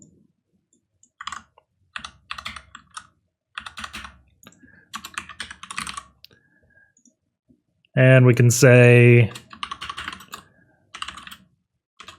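Clicky computer keyboard typing comes in quick bursts separated by pauses while commands are pasted during a HackTheBox hacking session; someone speaks briefly near the end.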